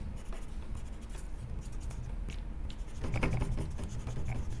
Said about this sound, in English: more lines to erase